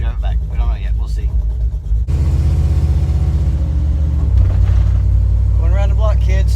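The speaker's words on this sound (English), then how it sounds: "we're in the duster. And we're going to drive it around the driveway" A Plymouth Duster car drives around a driveway with a steady, loud engine rumble that swells slightly partway through, while people talk over it.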